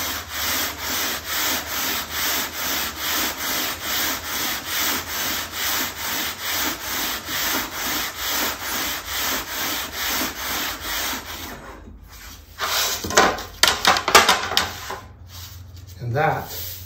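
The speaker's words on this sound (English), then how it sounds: "This is very soft wood, you know. And it'll sand right down. A little bit of 120 on there." Very soft wood is hand sanded with 120-grit sandpaper in long, steady back-and-forth strokes, a rhythmic close scratching that stops, followed by brief handling knocks and rubbing while someone talks.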